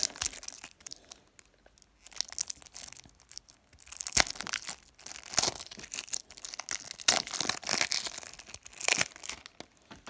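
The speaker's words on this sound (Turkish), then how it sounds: "Kartlarımızı açalım. Açılıyor." Uno Deluxe card game packaging being opened up close, with irregular bursts of crinkling plastic wrap and tearing, pausing briefly between handfuls of crackle.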